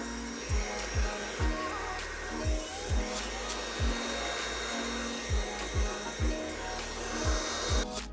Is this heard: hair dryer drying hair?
yes